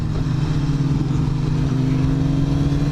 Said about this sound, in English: That engine braking though.